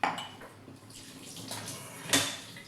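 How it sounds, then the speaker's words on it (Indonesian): Dishes being washed by hand at a kitchen sink: running water from the tap with clinks and clatters of plates and cutlery, including a sharp knock near the end, close by and without talk. "hari ini itu aku lagi nyuci piring"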